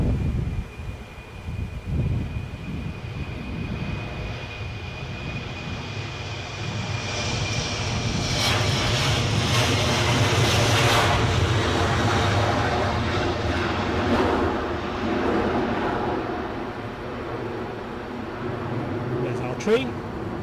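A fixed-wing airliner arrives at a windy Edinburgh airport, its engine roar rising into a broad, loud rush that peaks midway and then slowly fades, heard from a distance with heavy wind buffeting the microphone throughout.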